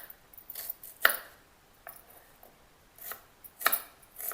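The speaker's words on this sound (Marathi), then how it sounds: "कांद्याला पण बारीक कापायचं।" A knife finely chops onion on a board, giving quiet, irregular cutting taps with a few sharper strikes, close by and alone without any speech.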